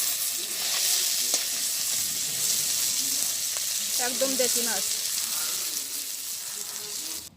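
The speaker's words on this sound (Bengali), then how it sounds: "মাছ ভাজি হয়ে গেছে" Small local freshwater fish frying in oil in a pan, a loud, steady, close sizzle that holds throughout, with a short spoken remark partway through.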